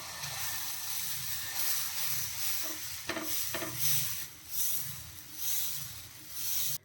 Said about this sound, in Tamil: இப்போ தோசையை ஊற்றி எடுத்துக்கலாம்.